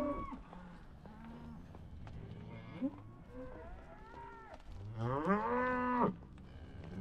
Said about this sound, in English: Hey, cows.